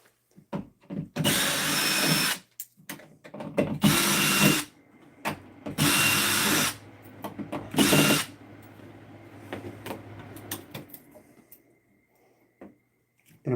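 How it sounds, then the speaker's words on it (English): A screw gun runs in four separate bursts of whirring motor drive while an electrician drives out screws. The first three bursts last about a second each, the last is a brief spurt, and quiet tool handling fills the gaps. "I'm gonna get my screw gun."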